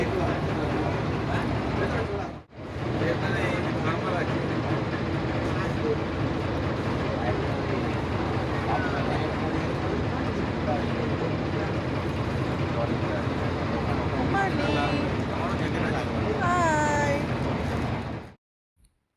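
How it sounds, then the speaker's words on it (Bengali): A passenger launch pulls away from the ghat, its engine and hull churning as a steady, loud rumble under constant chatter, with a brief drop near the start and a faint high whistle toward the end. "লঞ্চ ছেড়ে দিল।"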